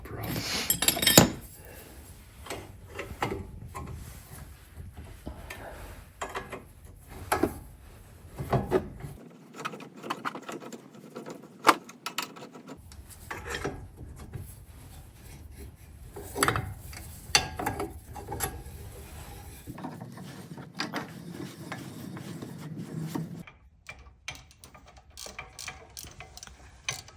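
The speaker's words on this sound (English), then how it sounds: "Take this caliper off." A brake caliper being removed from a Porsche 986 during a pad and rotor job, close metallic ratcheting, clinks and tool clatter in irregular bursts, with occasional talk in the background.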